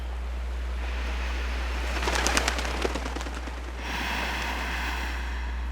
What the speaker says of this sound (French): le cri lointain des mouettes complétait la mélodie parfaite de ce monde onirique